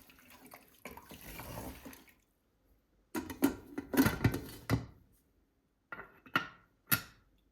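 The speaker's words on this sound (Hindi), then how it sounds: "इसमें पानी डाल लेते हैं।" Water pours into a pot holding whole spices such as cinnamon and bay leaf for mutton korma, heard as gurgling bursts in separate spells with quiet gaps between them, close by and with no talking.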